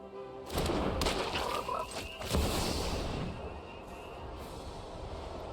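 A frog croak effect from a card played in MTG Arena sounds as a loud, thick burst with a deep thud, then fades into a dense, rumbling digital tail.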